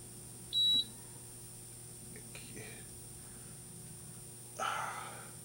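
An ohm meter gives one short, sharp electronic beep as its test leads touch during a repair on a 1964 Sony 9-304U television. A soft voice comes in later over a steady electrical hum.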